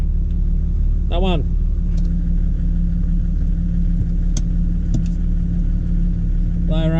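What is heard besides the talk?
winch pulling 80 series Land Cruiser up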